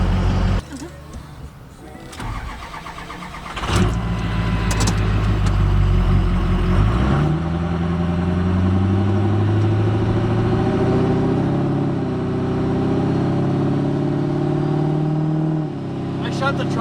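Ford 6.0 Powerstroke diesel truck engine cranking, catching and settling into a steady running drone that rises and falls in pitch, with a voice talking over it.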